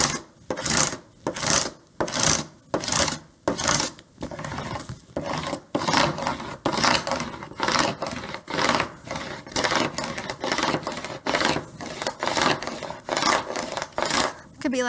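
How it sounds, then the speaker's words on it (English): A scraper tool rubbing back and forth to burnish vinyl onto transfer tape, a close, rhythmic series of rasping strokes at a steady pace. "I have my handy dandy scraper tool that I'm going to use to burnish or to make sure that the design sticks to the transfer tape"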